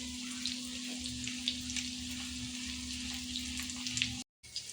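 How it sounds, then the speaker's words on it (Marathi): Prawn Russian kebabs fry in hot oil with a steady, close sizzling hiss and a faint low hum underneath. The sizzle cuts out briefly near the end. "त्याला मस्त दोन्ही साईडनी गोल्डन फ्राय होईपर्यंत फ्राय करून घेऊया"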